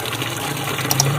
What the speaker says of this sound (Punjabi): ਹੁਣ ਪਾਣੀ ਇਹਨਾਂ ਨੂੰ ਲਾਈਏ ਤੇ ਜਨਾਬ ਕੰਮ ਮੁਕਾਈਏ।